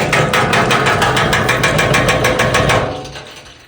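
A fast, steady rattling clatter of a marble inside a fuel siphon hose, siphoning gas from a car, repeats over a low engine-like rumble, then fades out near the end; no talking.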